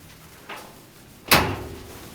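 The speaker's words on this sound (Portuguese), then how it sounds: "Aqui é a porta." A cabin door on the MSC Magnifica cruise ship, in a crew cabin: a soft click, then a louder thud as the door shuts, followed by a fading room tone.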